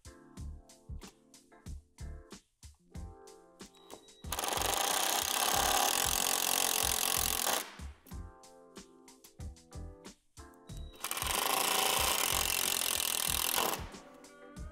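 Self-tapping screws are power-driven into the dead bolt fittings on a Lifetime utility shed door, with two long, loud bursts of grinding drill whir separated by stretches of tapping and handling clatter.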